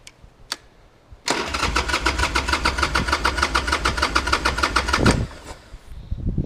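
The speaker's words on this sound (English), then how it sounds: "It was sputtering a little bit at idle until it got like completely warmed up before, so we'll see how we do now." A Harley-Davidson Sportster motorcycle engine, freshly tuned up, cranks and fires into a loud, rapid, steady idle at close range, rumbling evenly for about four seconds before cutting off abruptly.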